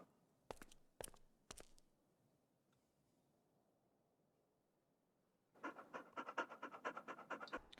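Rhythmic dog panting from Stormworks, a fast run of breathy puffs that starts partway through after three sharp clicks and a quiet stretch, close and fairly clear.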